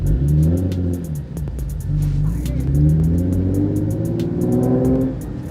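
Infiniti G37 IPL with a 370-horsepower engine and a very loud aftermarket exhaust revs hard in repeated rising pulls, deep and close, with a rumbling idle between revs.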